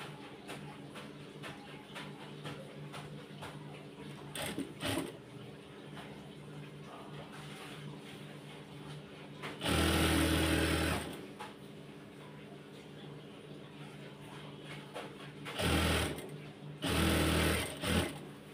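A sewing machine stitches decorative piping onto the side of a kameez, running in a steady mechanical whir with several louder bursts of fast stitching, and faint talk beneath it at times.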